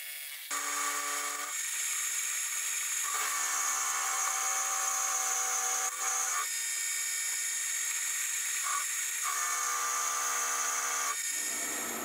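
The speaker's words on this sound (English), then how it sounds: "I'll start to machine up the selector fork for engaging and disengaging the gearbox." A metal selector fork for a milling machine gearbox is machined, a close, high-pitched whine from the cutting tool running steadily with several shifts in pitch as the cut changes, and no one speaking.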